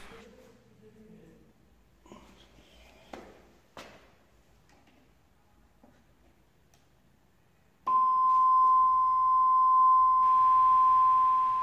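A steady sine tone from a signal generator driving an acoustic emitter starts abruptly after several seconds of quiet clicks and handling, then holds loud and unbroken to the end.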